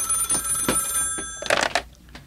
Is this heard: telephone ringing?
yes